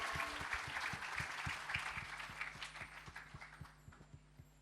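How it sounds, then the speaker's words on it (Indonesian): A church congregation applauding during a Christmas celebration service, steady dense clapping from a crowd with a rhythmic low thumping of music beneath it, slowly thinning out toward the end. "Mari berikan tepuk tangan yang lebih meriah lagi untuk Raja di atas segala raja."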